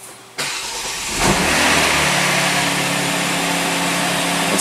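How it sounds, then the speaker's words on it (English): A Genesis G70 engine cranks and catches after a spark plug replacement, the starter whir giving way about a second in to a steady, even idle that stays close and moderately loud with no talking. "And then let's start the vehicle."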